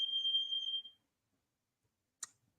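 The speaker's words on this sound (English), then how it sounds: "I wonder if Jeff's changing the fire alarm" A fire alarm gives a single shrill electronic tone lasting about a second, then falls silent before a brief sharp click, heard alone in a quiet room.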